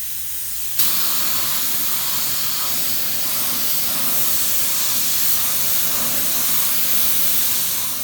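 A spray gun lays down a light final paint coat in a home shop, giving a steady, loud broadband hiss that starts abruptly and runs unbroken for several seconds.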